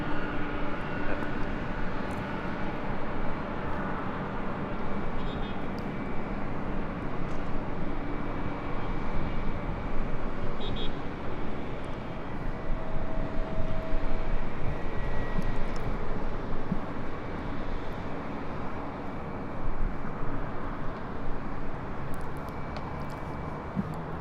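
A Delta heavy jet taking off from runway 24 left at LAX, heard as a steady, broad engine roar that holds loud and constant throughout with no talk.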